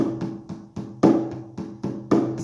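A shamanic drum keeps a steady, regular beat: about ten evenly spaced, resonant hits in quick succession, each one close and loud with a short ring.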